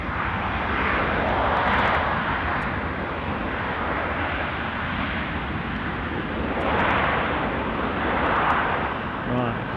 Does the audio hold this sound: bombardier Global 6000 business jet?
yes